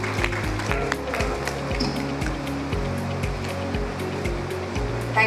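Applause from an audience at a corporate event in Kolkata, a steady dense patter of clapping held at an even level throughout, moderately distant and filling the room.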